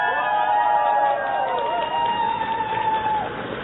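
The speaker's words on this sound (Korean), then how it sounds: "그렇다면 다시 박수를 열심히 쳐주십시오" Crowd at a campaign rally during a parliamentary election in Jeju, cheering and clapping in a dense, continuous wash, with a loud voice or tonal sound riding over the noise throughout.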